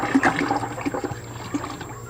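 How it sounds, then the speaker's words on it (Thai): Liquid Bacillus starter made from pineapple peels, two liters of it poured into a fermentation mix of seashells for calcium, a steady close gurgling splash of running liquid throughout. "จุลินทรีย์บาซิลัสจากเปลือกสับปะรดนะครับ ใส่ลงไปนะครับ 2 ลิตร"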